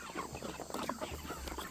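Backyard chickens cluck and murmur close by in a dense, overlapping chatter of short soft calls, fairly quiet and continuous.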